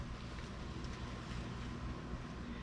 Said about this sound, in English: it is stinking windy out there